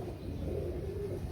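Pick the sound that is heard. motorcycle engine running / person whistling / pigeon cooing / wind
pigeon cooing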